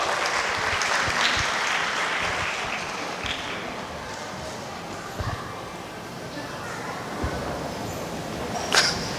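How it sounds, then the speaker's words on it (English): Applause at a closing ceremony fills a large room with a broad wash of clapping that fades slightly toward the end, mixed with a few thumps and a brief sharp sound near the close. "Please give a round of applause."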